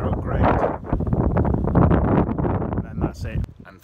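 Gusty wind on a hilltop buffets the microphone, producing a loud, rough rumbling roar that fades near the end.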